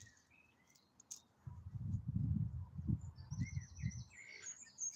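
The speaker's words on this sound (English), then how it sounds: "Can you hear the birds?" Birds chirp outside in faint, scattered high tweets, partly masked by a duller low rumble that swells in the middle of the stretch before easing off.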